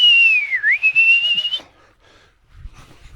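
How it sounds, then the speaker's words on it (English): A whistling kite calls beside a lake, one loud, clear descending-then-rising whistle lasting over a second, followed by faint quieter notes and low background rumble. "There's a whistling kite."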